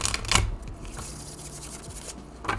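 Owl and Bones tarot cards with a linen finish being shuffled by hand, crisp riffling bursts at the start and end with softer sliding and rubbing between, close and intimate, no talking.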